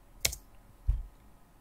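A couple of sharp keyboard clicks on a computer keyboard, two isolated taps roughly half a second apart, close and fairly quiet against a silent room.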